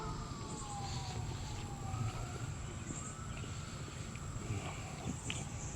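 Distant emergency sirens wailing faintly, their rising and falling tones drifting over a low, rumbling background.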